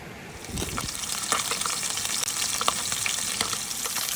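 Food fries in a pan on a campervan kitchen stove, a close, steady sizzle with scattered pops and a few scraping stirs, no one talking.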